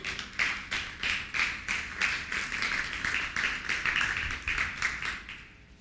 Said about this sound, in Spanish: ¿Habrá alguien que le da un aplauso al Señor?